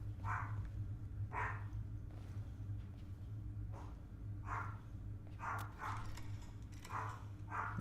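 A pet dog barks in a room, around seven short sharp barks coming in uneven bursts over a constant low electrical hum.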